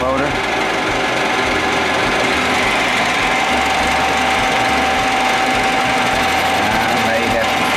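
A 1906 F E Reed lathe runs on its new motor with a steady, loud mechanical whir and rattling drone, holding an even pitch from start to finish, with a voice speaking over it.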